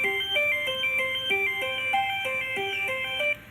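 Synth lead from a Nexus plugin with a touch of filter, playing a clear stepping melody of bright sustained notes in a steady rhythm, alone and fairly loud, for a Wild Arms 4 soundtrack piece.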